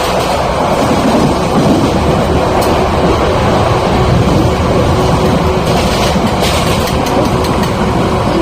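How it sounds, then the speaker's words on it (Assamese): A train runs on rails, heard from on board as a loud, continuous rumble with faint rhythmic clatter and no talk. "ট্ৰেইনত উঠিলোঁ আমি"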